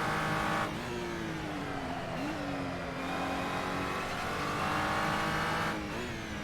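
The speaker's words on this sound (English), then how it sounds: "This car does sound a bit like a broken lawnmower" A race car engine in Assetto Corsa drones and revs continuously, pitch rising and dipping through gear changes, loud and close with a rough buzzing, lawnmower-like tone.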